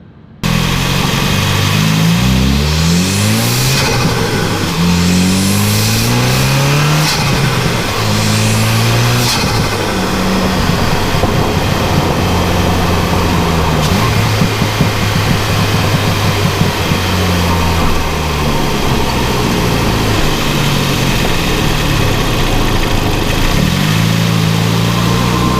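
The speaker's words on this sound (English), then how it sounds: "we ended up doing the Mountune recirculating valve, and do I love it." A 2017 Ford Focus RS engine fitted with a Mountune recirculating valve, revving up and settling repeatedly, loud and close, its rising and falling engine note running steadily through the whole stretch with no talk.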